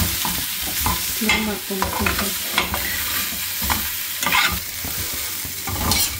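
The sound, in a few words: frying paneer in a non-stick pan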